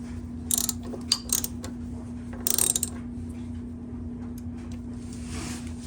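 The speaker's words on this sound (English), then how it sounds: "And we'll just take our socket. And just snug them up." A socket wrench ratchets in a few short bursts while snugging down bolts on a replacement oil burner fuel pump, crisp close clicking over a steady low hum from nearby equipment.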